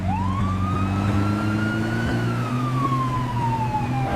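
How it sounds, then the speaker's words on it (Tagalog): Police car siren wailing in one long continuous sweep that rises and then slowly falls, loud and close, with a deep engine rumble underneath. "Naririnig ko na ang tunog ng mga pulisya."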